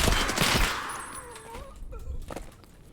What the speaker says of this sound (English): Now, I was being shot at here.